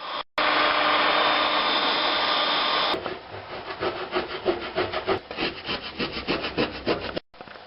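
A wooden board for a car seat is sanded by hand with sandpaper: a steady, loud rasping rub at first, then a quicker run of rhythmic back-and-forth strokes, close by with no voices.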